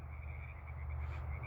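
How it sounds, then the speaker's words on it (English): Frogs croak in a swamp at night, a soft continuous chorus of pulsing calls with a steady high-pitched trill above low throaty croaks, faint and distant, no voices. "Guess that explains the frogs in the swamp, huh?"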